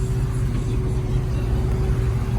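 The engine of a 1959 Chevrolet Apache pickup truck runs at a steady idle, a continuous low rumble with a faint constant whine above it, close and even throughout with no talk.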